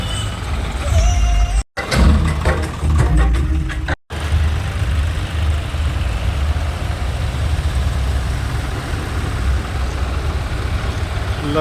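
Farm tractors roll past in a farmers' protest tractor march, a steady loud engine rumble and drone throughout, with a burst of clattering and voices early on.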